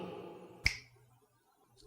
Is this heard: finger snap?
yes